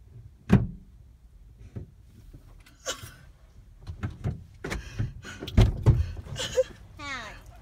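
A car door clicks as it is unlocked and then opens with a clunk, followed by a few more thumps and mechanical sounds, while a mother and daughter talk nearby.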